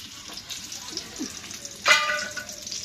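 Garlic and onion tempering hitting hot oil for a vegetarian vegetable dish, a soft steady sizzle with a sharper burst of frying near the end, faint and close.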